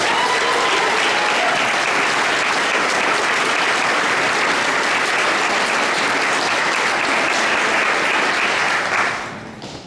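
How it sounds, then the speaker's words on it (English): Audience in a church applauds a brass band concert with loud, dense, sustained clapping that holds steady for several seconds before tapering off abruptly at the end. "Let's give them a massive round of applause."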